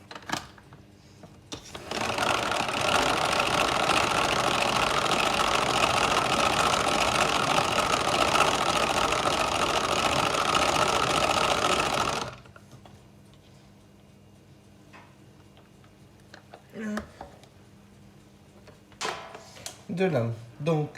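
A kitchen electric mixer runs loud and steady for about ten seconds, then stops, leaving quieter handling sounds. A voice talks over the mixer.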